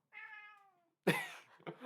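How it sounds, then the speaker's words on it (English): A house cat meows in a clear, drawn-out call, loud and close, followed by a brief scuffling burst of noise with no talk. "I'm just playing with the cat, that's all."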